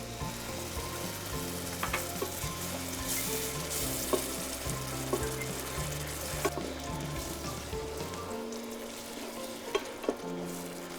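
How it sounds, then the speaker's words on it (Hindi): Steady, close sizzling of masala with curd and cream frying in a pan for millet biryani, with occasional clinks and scrapes of a spoon over the continuous hiss. "बस जब तक ये हमारा मसाला पकता है तब तक थोड़ा सा करते हैं इंतज़ार"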